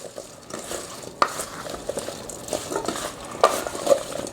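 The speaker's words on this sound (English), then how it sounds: "And then just mix these all up. Get the seasonings and the oil on all the potatoes." Potatoes being tossed with oil and seasonings in a bowl, giving close, soft wet stirring and scraping with a few sharp clinks of a utensil against the bowl.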